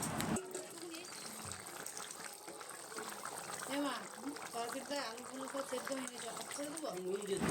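Water poured into a pot of chicken and potato curry makes a steady, continuous gush and splash throughout, with a faint voice or tonal sound in the background.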